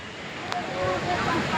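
Sea waves break at Ganpatipule beach in a continuous roaring wash, with wind buffeting the microphone and voices faintly mixed in.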